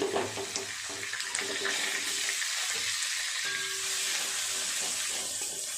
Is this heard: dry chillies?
yes